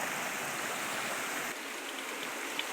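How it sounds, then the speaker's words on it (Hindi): Steady, unbroken rushing of a mountain stream (gadhera) running beside a forested village home, a close, even wash of flowing water with no voices over it. "ये है गधेरा।"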